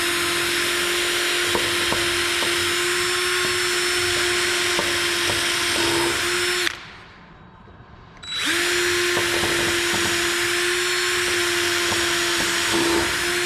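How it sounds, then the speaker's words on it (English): A power drill whines steadily at high speed drilling into wood, stops briefly partway through, then starts again and runs on, loud and close. "just drill in, drill out."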